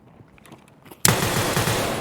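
Pistol gunfire in the video game Escape from Tarkov, where after a quiet second a loud, sustained burst of rapid shots erupts and continues to the end.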